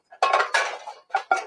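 Several metal pans clank and clatter in quick bursts as a cook swaps to a new pan in a busy kitchen, close and fairly loud, with short pauses between knocks.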